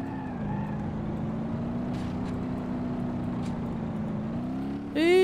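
A Toyota Corolla Sprinter in the BeamNG.drive game hums with a steady engine drone throughout, a few faint clicks in the background, and a sudden louder revving burst right at the end.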